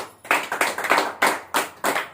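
A church congregation claps loudly during a pastor's sermon, the applause coming in several bursts with brief dips between them.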